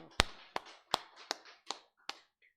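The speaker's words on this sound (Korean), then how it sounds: "하나님께 감사 박수 올리겠습니다." Six sharp, evenly spaced claps ring out in a church during a Korean Full Gospel Sunday service, each a crisp separate strike with a short decay, fading slightly toward the end.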